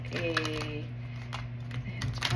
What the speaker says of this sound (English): I'm feeling very strongly that we need a good shuffle.